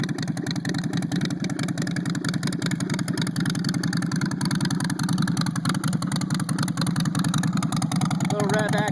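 A Harley-Davidson Sportster 48 fitted with a Twisted Choppers Hookah header exhaust idles and revs, a loud, continuous, throbbing V-twin rumble held close throughout, with voices talking faintly over it.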